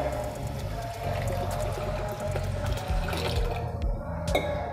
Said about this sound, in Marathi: आता याच्यामध्ये आपण पाणी घालून घेऊया